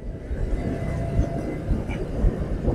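An elevated metro rail train runs between Uttara North and Uttara Central stations, making a continuous low rumble with a faint steady whine and occasional soft thumps from the track.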